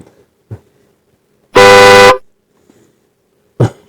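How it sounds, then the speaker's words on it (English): A single loud tune-playing car horn blast lasting about half a second, with a rich harmonic tone, between quiet stretches and a couple of brief knocks. "any vehicle with a normal horn has been replaced by a tune-playing one"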